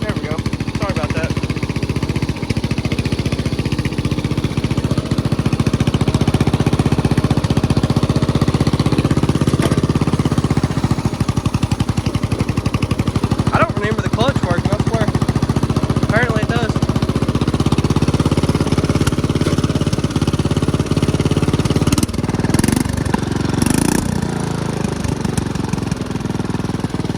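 An old lawnmower engine runs steadily and loudly up close for the whole stretch, a rough continuous drone with some rattling, and a voice can be heard over it at times.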